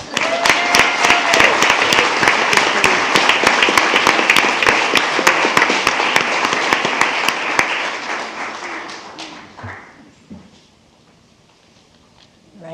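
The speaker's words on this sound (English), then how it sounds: "And one more round of applause for Principal Derek Lawson." Applause at a school board meeting honouring a principal: a crowd claps loudly and steadily for about eight seconds, then the clapping thins out and fades to near silence.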